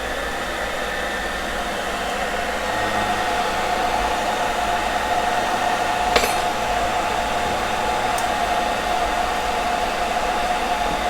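A hair dryer blows with a steady, loud whooshing hum that stays constant throughout, with one faint clink partway through.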